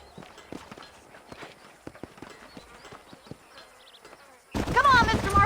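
Horse hooves clip-clopping on a dirt trail in Red Dead Redemption, a steady run of distinct hoof strikes at moderate distance, cut off by a loud burst of speech near the end.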